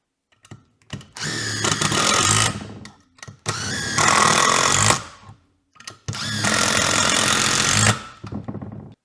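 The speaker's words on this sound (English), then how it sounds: "drive 3 of the screws back to back with each of the impact drivers" DeWalt DCF801 impact driver on its high setting driving three Robertson screws back to back, three loud hammering bursts of about two seconds each separated by short pauses, close up.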